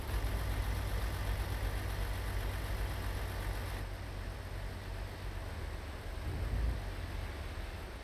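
A truck engine in the video game American Truck Simulator runs at a steady low idle while reversing, a constant droning rumble with a slight change in tone midway, alone without talk.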